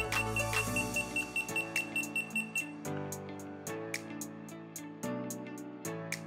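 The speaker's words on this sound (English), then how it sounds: "Beeping sound that can be turned off." A Huepar LR-8RG laser receiver gives a series of short, rhythmic electronic beeps with tones that step between pitches, clean and close with no talking.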